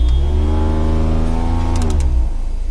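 A Renault Duster's faulty AC blower fan gives a loud, steady mechanical whir with a strong tonal hum, droning continuously, briefly rising in pitch near the end, with no talking.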